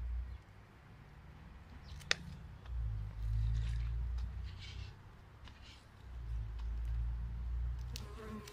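Honeybees buzzing at an open hive during feeding, a low, continuous hum that swells and fades close to the listener, with a sharp click and occasional faint handling noises.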